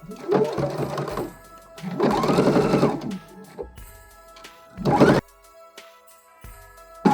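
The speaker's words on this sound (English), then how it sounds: "I'm going to use a straight stitch and just stitch down the side" Sewing machine straight stitching down the side seam of a pouch made from a tie: several bursts of rapid mechanical whirring separated by short pauses, close and clear, no talk.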